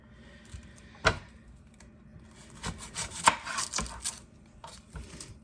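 A knife cuts an onion in half on a cutting board for a mushroom risotto, giving a few sharp, close, woody chops with soft rustling between them.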